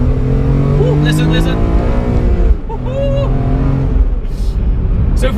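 BMW M3 CSL engine droning loudly inside a stripped cabin with no sound deadening, a steady low harmonic hum rising in pitch as it revs, with a brief dip midway before pulling again.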